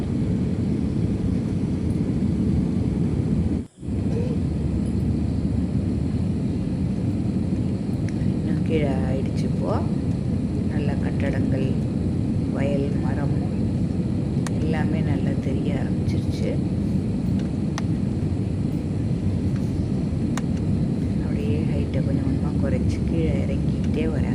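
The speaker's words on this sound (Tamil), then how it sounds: "நல்லா கீழே வந்துருச்சு ஃப்ளைட்டு ஹைட்டு கம்மியாகிடுச்சு இப்போது" Loud, steady roar of an airplane cabin as the flight descends, a broadband engine and air rush that fills the whole stretch, with one brief dropout near the start and faint chatter beneath.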